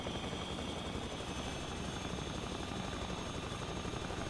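A helicopter in the survival game The Front drones steadily with a dense, even rotor and engine roar that fills the whole stretch, with no talk over it.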